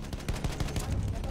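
A short, close burst of rapid automatic fire from a World War I machine gun in a Battlefield 1 battle, a dense run of evenly spaced shots with no talking over it.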